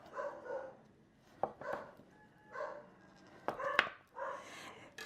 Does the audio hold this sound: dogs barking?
yes